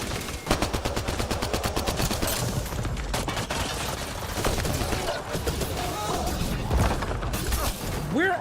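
Rapid bursts of gunfire from Mass Effect Andromeda rattle almost without pause, with dense automatic volleys early and sharp cracks and impacts continuing throughout, loud and close, with no talk.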